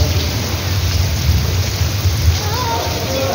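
Heavy rain pours steadily outside a culvert during a spell of bad weather, a dense continuous hiss with a low rumble underneath that may be distant thunder, loud and unbroken throughout.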